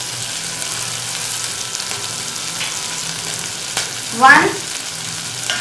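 Onion and green chilies sizzle and fry steadily in a pan, with a brief louder scrape of stirring near the end; no talking over it.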